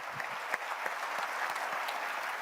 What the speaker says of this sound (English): we didn't build a round of applause into the run of show, so this is great